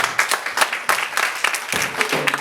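A church congregation breaks into applause to acclaim God during a sermon: a dense, irregular burst of clapping that rises and falls in waves for a couple of seconds, close and fairly loud.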